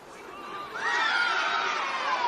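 Crowd at an NPL Victoria football match between Avondale FC and Heidelberg United at a ground in Melbourne's northern suburbs: a distant, faint murmur swells into a sustained roar of cheering.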